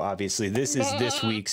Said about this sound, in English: I know that sounds like a goat, but it also pops up in a popular creative application